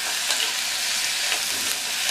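Brinjal and onion sautéing in oil for a Tamil brinjal chutney, a loud, dense, continuous sizzle close by with faint stirring ticks and no speech.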